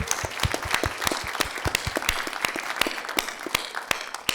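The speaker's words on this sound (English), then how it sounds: "Please give them a big applause." Audience applause at an evening concert event, steady dense clapping from a crowd with some sharper individual claps standing out, sustained throughout at moderate loudness.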